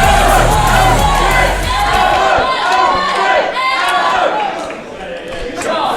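Loud wrestling crowd at a Creation Pro Wrestling show roars and yells throughout, a dense sustained wall of cheers and shouts that swells early and eases slightly toward the end.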